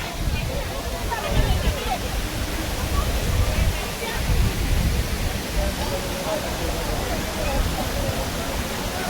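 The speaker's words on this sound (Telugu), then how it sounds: "ఈ వాటర్ ఎక్కడి నుంచి వస్తున్నాయి అంటే జస్ట్ ఈ డ్యామ్ నుంచి" Water rushes down from a dam at Lonavala in a steady, loud roar of broadband noise, continuous and close, with no breaks across the whole stretch.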